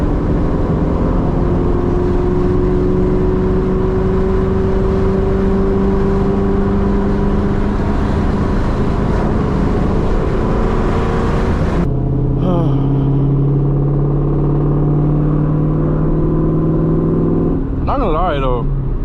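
Loud, raw roar of a straight-piped 2003 Ford Mustang GT V8 pulling hard from inside the car, engine pitch climbing steadily through a long gear, then a shift and another rising pull near the end.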